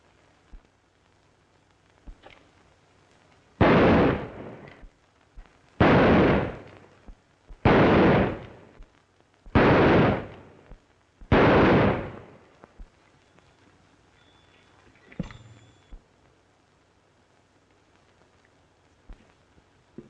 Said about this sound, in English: That's pretty good shooting.